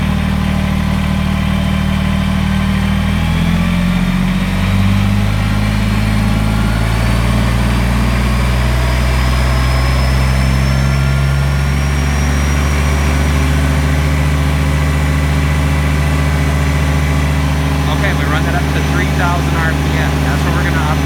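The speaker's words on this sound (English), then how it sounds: "now the engine's been idling for a little bit. We're going to go and we're going to run this up once" A Kubota BX23S compact tractor engine idles, then climbs as the throttle lever is pushed up, its pitch rising and holding at a steady high-RPM drone, loud and close throughout with someone talking over it.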